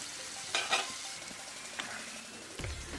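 Kerala-style fish frying in a pan over medium-low flame, with a steady close hiss of oil and a few brief scraping and stirring sounds.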